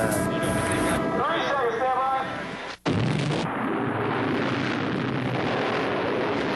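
A Tomahawk missile fires from the battleship USS Missouri, a sudden loud blast followed by a sustained roaring rush, with a voice speaking over the opening moments.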